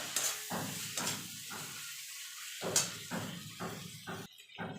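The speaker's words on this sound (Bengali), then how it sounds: "রঙের জন্য দিয়ে দেবো কাশ্মীরি লঙ্কার গুঁড়ো এবার সব মশলাগুলো ভালো করে কষিয়ে নেবো যতক্ষণ মশলা থেকে তেল না ছেড়ে আসছে" Spices with Kashmiri chilli powder sauté in hot oil for an Indian jackfruit and prawn curry, a close crackling sizzle broken by rhythmic scraping strokes of a spatula stirring the pan, repeated about eight times.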